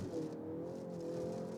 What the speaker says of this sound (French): on peut toujours accélérer sur l'autoroute